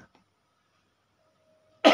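A single short, harsh cough bursts out at the very end after near silence, close and fairly loud, from a man who has a cough and a cold.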